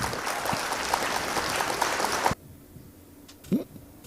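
Applause from a crowd at a challenge match, a dense burst of clapping that keeps going loud and steady and then cuts off abruptly, followed by near quiet with one brief sound.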